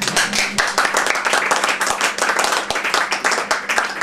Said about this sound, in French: Khadija, vous pouvez l'applaudir